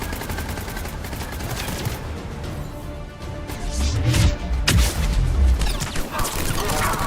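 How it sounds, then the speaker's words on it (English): Grenade blast and rapid gunfire in the Mass Effect 3 video game, a steady crackle of shots that swells into heavier booming bursts midway, continuous and loud with no talking. "That's a grenade."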